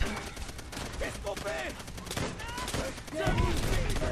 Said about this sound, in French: Donc je vais balancer une grenade, allez hop.